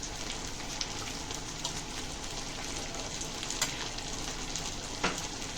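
Taro fries in a pan as tomato sauce goes in, giving a steady low sizzle and crackle with a few sharper pops, close and continuous.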